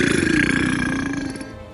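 A long, loud, deep burp from a man in a cartoon story, a single drawn-out guttural croak that slowly falls in pitch and fades.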